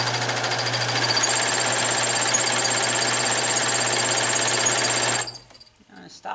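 A serger overlock sewing machine stitches and trims fabric for an Elizabethan doublet, giving a loud, steady, rapid mechanical whir that runs for about five seconds and then cuts off abruptly.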